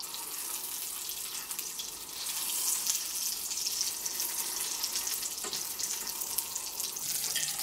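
Babybel mozzarella sticks frying in hot oil, a steady broadband sizzle and bubbling that grows a little louder partway through and carries on evenly, close up, with no talking.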